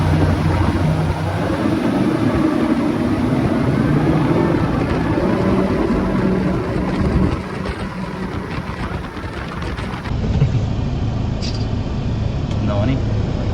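A three-engine boat pulls away from Koh Kood, its steady low engine roar filling the whole stretch with wind and water noise, and people talk over it throughout.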